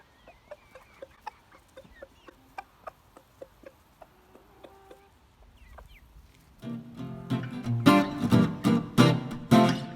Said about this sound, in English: It's quite important for the chicks and the pullets to work out the flock dynamics.